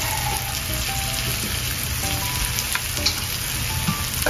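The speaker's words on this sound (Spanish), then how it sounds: "vamos a esperar a que se sofría un poquito más" Red kidney beans frying in a pot with oregano for a bean stew, a steady dense sizzle with faint clinks and stirring, continuous throughout and without talk.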